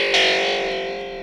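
A Sonicware ELZ_1 synthesizer plays a sustained, noisy tone through a heavy cassette-tape lo-fi degradation effect, distorted and wavering as it slowly fades over about a second.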